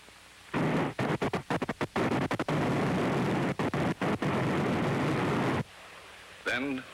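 A V-2 test rocket, round number 59, firing at launch, heard from a blockhouse: a loud roaring burst broken by sharp gaps and stutters, then a sustained roar that cuts off, followed by a brief rising tone.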